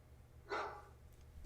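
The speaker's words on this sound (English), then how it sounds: "Now it should play with a bark at the end as an alert that the timer is up." A single short dog bark, like a pug's, plays as the alert at the end of a countdown timer, loud and close, over a faint background hum.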